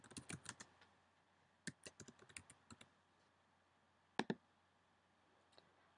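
A computer keyboard clicks as a question is typed, with quick bursts of close, crisp keystrokes separated by pauses and a final few taps.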